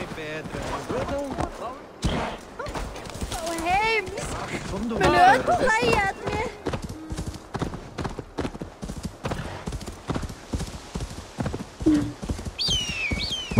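A horse's hooves clip-clop in a steady rhythm while riding in the video game Assassin's Creed Valhalla, with someone talking in Spanish over the hoofbeats nearly throughout.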